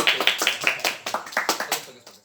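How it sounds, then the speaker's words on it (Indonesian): A classroom of students claps for a classmate in a quick, fairly near run of about a dozen claps that fades out toward the end. "Tepuk tangan untuk Yani yang di belakang itu."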